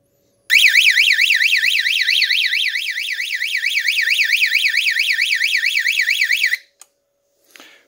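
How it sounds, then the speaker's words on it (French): Office panic alarm for a bank hold-up system, triggered through an IP controller, sounding a loud rapid warbling electronic tone for about six seconds before cutting off abruptly, heard alone with no talk. "ce bouton poussoir qui est dans le bureau arrête l'alarme du bureau"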